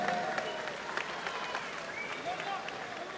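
Crowd at a boxing event applauds two fighters in the ring, a continuous dense clapping and cheering held at steady volume, with an announcer's voice carrying over it.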